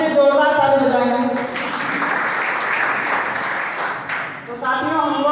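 Audience at an RCM marketing seminar in Sangrampur breaking into steady, moderately loud clapping for a few seconds, with someone speaking before and after the applause.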